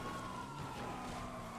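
Police siren during a chase in FiveM (GTA), heard faintly as a steady wailing tone over a dense background rumble of traffic, continuous and distant throughout.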